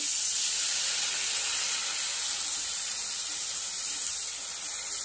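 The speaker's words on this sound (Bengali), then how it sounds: "এবার জল ঢেলে দিচ্ছি এতে।" Water poured into a hot pan of tangra fish curry gives a steady, loud hissing sizzle that holds evenly and eases slightly toward the end.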